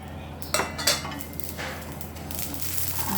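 Sesame seeds are stirred and roasted in a pan, with a few metallic scrapes and clinks of a utensil against the pan over a soft, steady background.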